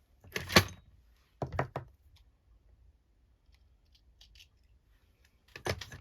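Scissors cutting a brand new piece of lace, heard close up as a few short, crisp snipping bursts separated by quiet pauses.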